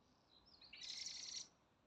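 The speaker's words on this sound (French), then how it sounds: "Les petits oiseaux." Small birds chirping outdoors in a garden: a faint, distant high twitter begins, then a brighter, denser burst of chirps swells for about a second before fading, over quiet background hiss.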